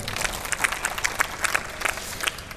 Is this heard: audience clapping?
yes